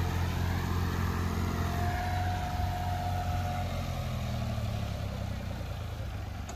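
A John Deere 5060 E tractor pulls an 8-foot Landforce superseeder in low first gear, its engine holding a steady, loud drone with strong low harmonics and a faint rising whine, continuous throughout with no speech.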